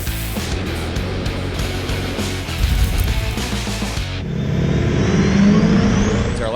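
A regular cab Chevrolet L5P diesel shop truck roars at a drag strip during fall diesel drag races in Byron, Illinois, its engine loud and close, climbing through revs before shifting into a sustained higher-pitched drone.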